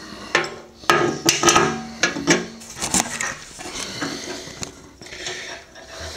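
Metal clanks and ratcheting clicks as nuts are taken off with a wrench during deck prep work: loud, close, irregular knocks and scrapes, busiest early and then thinning to a few softer taps.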